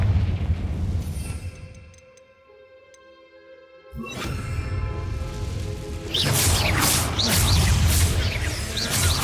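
A Confringo blasting spell in Hogwarts Legacy bursts into a loud, rumbling explosion after a brief ringing, tonal charge, followed by a roaring, crackling aftermath.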